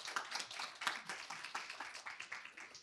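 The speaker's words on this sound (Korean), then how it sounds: "발표자에게 다시 한번 뜨거운 박수 부탁드립니다." Faint, sparse clapping from a small forum audience for a presenter at a counseling-sector HRD event, a handful of distinct hand claps in an uneven rhythm heard from a distance.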